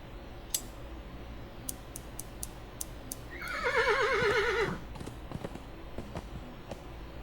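A horse in the video game Willy Morgan and the Curse of Bone Town gives a single loud, wavering whinny, preceded by a few sharp ticks and clicks and followed by quieter clip-clop-like knocks.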